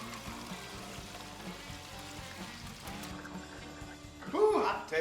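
Hot boiled potatoes are drained through a strainer, giving a faint pouring, gurgling stream of water under soft background sounds, followed by a brief exclamation at the end.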